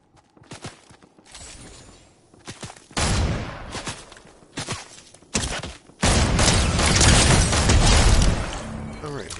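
Gunfire from the video game Fortnite: scattered sharp shots and short bursts at first, growing louder, then a sustained heavy volley near the end.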